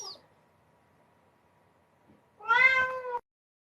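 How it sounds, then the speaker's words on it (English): A single loud, drawn-out meow from a nearby cat breaks an otherwise near-silent room. "Our cat can be so noisy."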